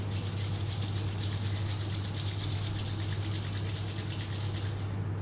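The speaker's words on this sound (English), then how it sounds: "Slowly rub your hands." Two hands rub together slowly, a soft rhythmic swishing of skin on skin close up over a low steady hum, with no one speaking until the rubbing stops near the end.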